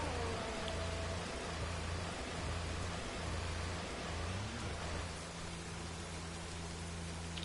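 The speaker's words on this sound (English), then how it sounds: "Look at the detail though to the rain now in F1 2019." Heavy rain in the racing video game F1 2019 hisses as a dense, steady wash of noise, with a low engine drone humming underneath throughout.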